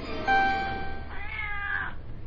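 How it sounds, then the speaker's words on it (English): A cat meows twice, a drawn-out tonal cry followed by a shorter, wavering one, close and clear over faint background hum. "Now Herman meowed, but that didn't wake the captain."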